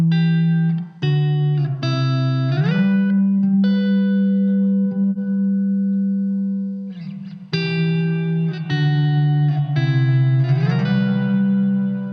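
Electric guitar played through a Blackstar ID:Core V3 amp with its reverb effect turned all the way up, sustained chords and single notes ringing out with long washy tails between strums, loud and close with no talking.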